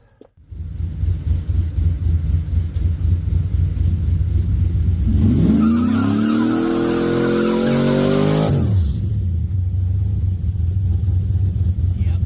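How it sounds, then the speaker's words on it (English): A SAAB 9-7X SUV fitted with a coil spring conversion idles, then revs hard into a burnout with rising engine roar and tire squeal for several seconds before dropping back to a rumbling idle, loud and close. "does it still do a burnout?"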